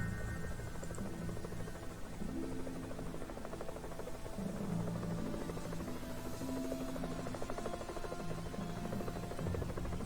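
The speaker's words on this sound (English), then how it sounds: "you can hear the helicopter noise that will be here every so often" Continuous helicopter rotor noise drones as a dense, steady buzzing hum in the lair-building game Evil Genius, loud and unbroken, with no talking.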